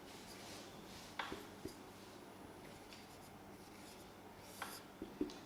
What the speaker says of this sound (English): I am writing